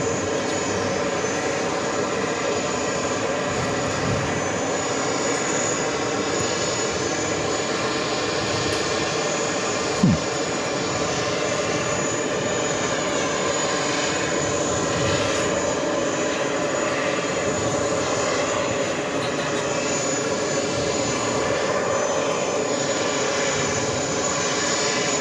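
A jet airliner arriving on runway 13 left at JFK, a steady loud engine roar that holds evenly throughout with no voices.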